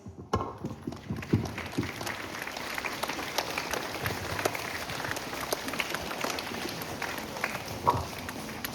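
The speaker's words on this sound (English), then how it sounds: "let's make them feel at home with a big round of applause" A school audience gives a big round of applause to welcome new students, steady dense clapping from a crowd lasting several seconds with a few louder claps standing out near the listener.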